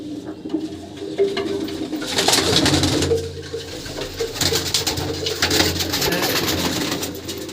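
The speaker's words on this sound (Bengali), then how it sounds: "এই পায়রাটা হচ্ছে দেশি ম্যাট্রাস দেশি ম্যাট্রাস লাইনে পায়রাটা" Deshi Matrash pigeons cooing nearby in a loft, soft repeated throaty coos overlapping one another at a moderate level with light rustling and no speech.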